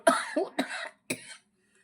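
Three harsh coughs in close succession, loud and near, the last one separated by a short pause before silence.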